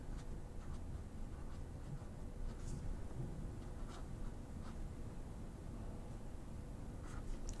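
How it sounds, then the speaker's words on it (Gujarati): Pen scratching quietly on paper as an answer is written by hand, soft irregular strokes over a low, steady background hum. "તો અહીંયા આપણે જવાબ લખીએ"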